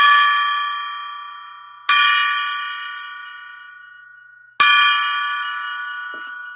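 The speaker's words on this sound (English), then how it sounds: "Let's ring the gong." A gong is struck three times, each hit a bright metallic crash that blooms into a long shimmering ring and slowly decays before the next strike. The strikes come at uneven intervals, loud and close, with no talking.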